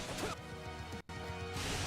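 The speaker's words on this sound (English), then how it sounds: "send your lightning crashing across the battlefield" A lightning attack crashes across the battlefield in the video game Fire Emblem Three Hopes, a loud, dense burst of crackling impact over a rumbling game score, cut by a brief dropout midway before the roar resumes.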